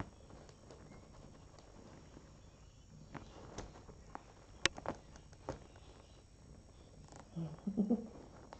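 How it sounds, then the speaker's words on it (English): A rescue cat purrs quietly and steadily at close range while playing in a tunnel, with scattered soft taps and rustles over the low hum and a slightly louder rustle near the end. "Can you hear her purring?"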